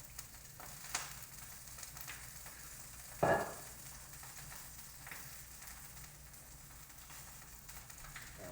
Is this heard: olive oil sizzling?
yes